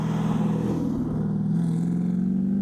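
A 1969 Pontiac Firebird V8 pro-touring car pulls hard under acceleration, its deep, steady exhaust note droning loud and close with a rising pitch and no voices over it.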